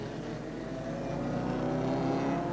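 An Audi Quattro race car laps a road-race circuit in Queenstown, 1990, its engine a continuous, fairly loud whirring drone with a gently rising pitch throughout.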